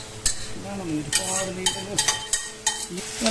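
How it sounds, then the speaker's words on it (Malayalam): Ginger, garlic and tomato fry in a pan under a steady close sizzle, with repeated spoon strokes scraping and knocking against the pan. "നമ്മുടെ ഇഞ്ചി വെളുത്തുള്ളി ചേർത്തതും തക്കാളിയൊക്കെ ചേർത്ത് ഒരു ലൈറ്റായിട്ടൊന്ന് ഫ്രൈ ചെയ്തെടുക്കാം"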